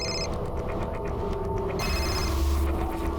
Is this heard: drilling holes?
no